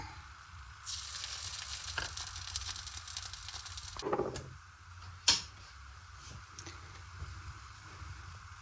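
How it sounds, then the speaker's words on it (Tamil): An egg dosa fries on a hot griddle with oil sprinkled over it, giving a steady broadband sizzle with a louder hiss swelling in as the oil lands and a few sharp spatters and clinks. "முட்டை தோசைக்கும் கொஞ்சம் எண்ணெயை மேலே சுற்றி இப்படி இப்படி தெளித்து விடுவோம்"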